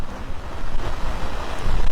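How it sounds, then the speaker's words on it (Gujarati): Gusty wind buffeting the microphone with a rushing roar, rising and falling, and rain noise mixed into the blustery din. "ફૂલ પવન સાથે અત્યારે વરસાદ વરસી રહ્યો છે"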